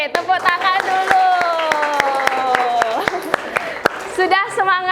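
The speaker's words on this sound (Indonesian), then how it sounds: "tepuk tangan dulu" A class claps hands in sharp, rhythmic bursts, the claps sounding under and between loud singing or chanting voices nearby.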